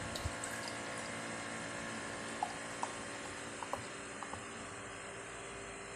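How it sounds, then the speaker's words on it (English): Nitro milk stout is poured fast into a glass, a steady continuous splashing wash for several seconds with a few small clinks and bubbly pops, fairly quiet and no voices. "I'll pour it in the glass fast just to see what happens"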